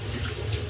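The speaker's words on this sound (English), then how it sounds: "I like hot water, and then I turn the water down, into a cool" Shower water pours steadily in a continuous, dense hiss as the flow is turned down, with no talking over it.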